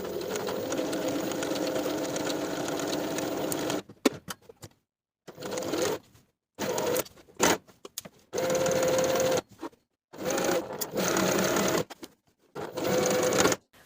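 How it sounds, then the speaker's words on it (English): A sewing machine stitches a pocket onto a linen summer dress, at first in one long continuous whirring run and then in short start-stop bursts separated by silence, close up and with no voices. "Then I'll sew from the main seam line along the original pocket stitches to the seam line once again"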